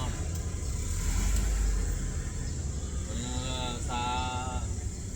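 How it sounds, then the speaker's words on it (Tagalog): Low, muffled engine and road rumble from inside a car crawling through heavy traffic, fairly quiet and continuous, with a brief voice rising partway through. "Sobra traffic eh."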